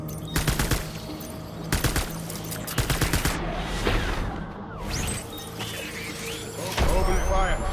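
Gunfire in the video game Death Stranding: rapid bursts of automatic fire and repeated shots with crashes and whooshes, dense and loud throughout, under a game soundtrack and effects.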